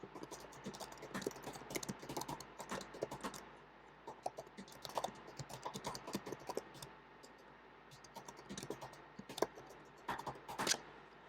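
Steady typing on a computer keyboard while an answer is entered into a Google assignment, with quick irregular key clicks running throughout at close range and a few louder taps near the end.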